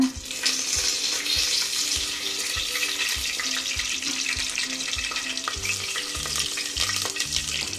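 Cinnamon sticks and cloves fry in hot coconut oil, giving a steady close sizzle with repeated scraping knocks from a stirring utensil throughout and no talking.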